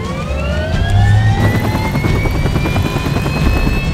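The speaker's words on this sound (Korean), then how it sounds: "헬기가 3대밖에 없구나." A helicopter at a helipad roars loud and close, its steady rotor chop layered with a rising turbine whine that holds throughout, with no voices.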